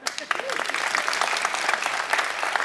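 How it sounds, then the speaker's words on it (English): An audience breaks into sustained applause, a dense patter of many hands clapping steadily throughout, with a voice briefly heard near the start. "Let's give her a hand."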